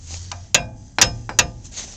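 Hammer blows on a turkey installation tool: three sharp metallic strikes, close and fairly loud, spaced about half a second apart, with some fainter clinks between them and no talking.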